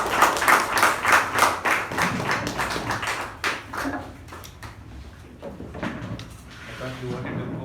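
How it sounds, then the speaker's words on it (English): An audience claps to welcome a speaker at a meeting, starting as loud, dense clapping from many hands that thins out and fades to scattered claps and quiet after a few seconds. "I invite with a big round of applause"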